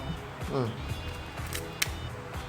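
An Olympus OM-2 film camera fires its shutter during speed testing, giving a few short mechanical clicks, one sharp snap standing out, while someone talks over most of it.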